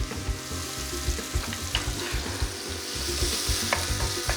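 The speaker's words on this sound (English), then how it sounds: "There's that nice sound that we like, onions." Onions and broccoli sizzle steadily in a hot frying pan, with frequent stirring and scraping knocks over the continuous crackle, heard close and alone.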